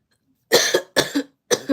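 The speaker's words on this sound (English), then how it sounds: "I think talking is only making me cough more." Three separate coughs spaced evenly apart, each a harsh double burst, close and fairly loud with silence between them.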